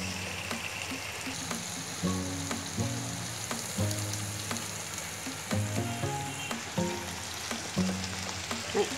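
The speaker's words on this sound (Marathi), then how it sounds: "मसाला भाजताना असं मसाल्याला तेल सुटलं पाहिजे म्हणजे आपला मसाला भाजून" Masala spices roasting in oil in a pan, a soft continuous sizzle broken by repeated stirring scrapes and clatters, close and fairly quiet, with no talking.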